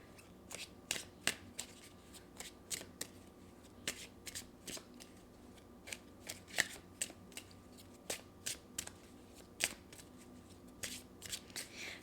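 Oracle cards being shuffled by hand, soft repeated riffling and slapping strokes in an irregular steady rhythm, close and quiet with no talking.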